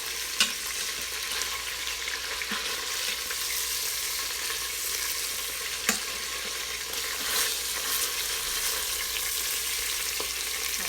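Browned beef pot roast sizzles steadily in an Instant Pot, a loud continuous frying hiss with a few sharp clinks and scrapes of a utensil against the pot, no voices.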